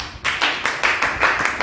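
A church congregation claps for Jesus during a Swahili sermon, a dense run of steady group hand claps keeping a rough beat, fairly close and loud.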